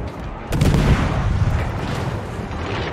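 Naval gunfire from warships during a World of Warships clan battle, a heavy artillery boom landing about half a second in and followed by a sustained rumbling roar of distant shelling.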